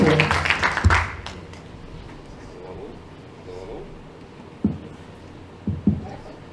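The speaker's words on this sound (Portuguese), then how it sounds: "aplausos, Jaime Paulo Carvalho" A brief burst of audience applause for a speaker, an economist and entrepreneur, loud for about a second and then cut off, leaving a quiet room with a few soft thumps.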